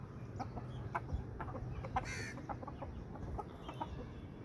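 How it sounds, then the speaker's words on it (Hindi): Aseel roosters offered for sale cluck faintly in scattered short calls against a quiet, noisy outdoor background, with one brief brighter call in the middle. "ये दोनों मुर्गे जो हैं ये फॉर सेल हैं।"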